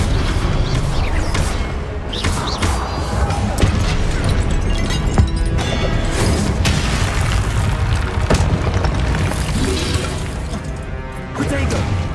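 Repeated booming spell explosions from the Confringo fire curse in Hogwarts Legacy, crashing and shattering loudly and densely for the whole stretch amid chaotic combat noise.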